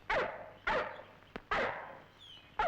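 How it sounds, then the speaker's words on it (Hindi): A tape recorder plays back a dog barking: four sharp, moderately close barks at irregular intervals, slightly boxy in tone, with a faint electronic hum beneath. "ये तो कुत्ते की आवाज है"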